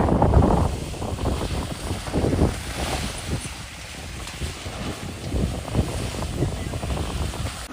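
An off-road vehicle ploughs through a water-filled pothole on a rainy day, producing a loud, sustained rush of churning water and wind-like roar with low engine rumble throughout and no voices.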